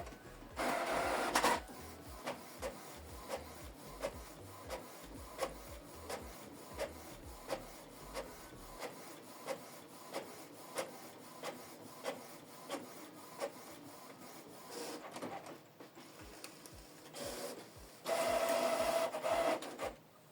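A Canon Pixma TS5350i inkjet printer prints a document, its print head ticking in a steady rhythmic shuttle with soft mechanical whirs and louder paper-feed rushes at the start and end, fairly quiet and close.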